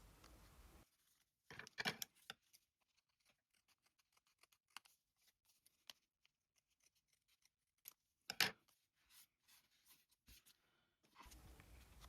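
Scissors trim the edges of paper Christmas bauble ephemera in a quiet room, producing a series of small, close snips and crisp cuts with short pauses, and a few louder clustered cuts partway through.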